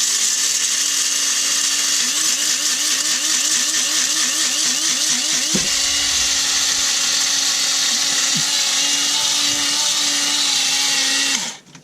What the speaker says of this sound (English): he is going to plug it in now, powered by solar outlets, and he is going to grind the coffee